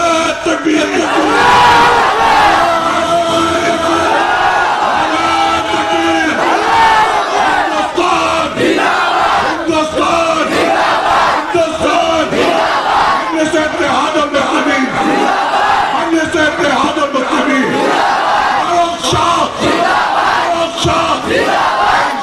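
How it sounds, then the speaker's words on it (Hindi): A large crowd at an AIMIM political rally in Devpur shouts slogans loudly and without a break, many voices bellowing together close by, chanting and cheering with no pause. "अपने जगह से उठते हुए नारे लगाओ"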